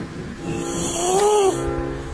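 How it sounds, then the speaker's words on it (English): A cat snores loudly in a steady drawn-out rasp, with one long rising and falling breath tone filling the short stretch and no talking. "Bro snores like he's working 3 jobs."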